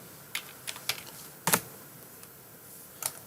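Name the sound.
typing on a computer keyboard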